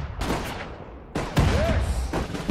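Gunfire in the World War II strategy game Sudden Strike 4, set in the hedgerows battle, comes as rapid bursts and sharp cracks with a heavier boom and a falling whistle, fairly loud against steady battlefield noise.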